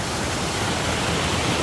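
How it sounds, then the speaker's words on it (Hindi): Sikri waterfall near Mariyang rushes in a steady, dense roar of falling water, loud and close, continuous without a break and with no voices. "पानी का आवाज़ आपको सुनाई दे रहा होगा"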